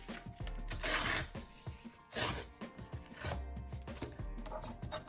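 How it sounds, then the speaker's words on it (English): A strip of book page paper torn along a ruler, a loud close ripping and rasping in several surges over a few seconds, with no voices. "take my ruler and just tear off this extra strip of book page on this side"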